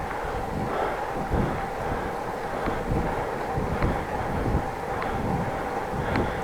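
Light wind buffets a microphone while cycling on a country road, a steady rushing noise with soft gusts and occasional thumps from the ride.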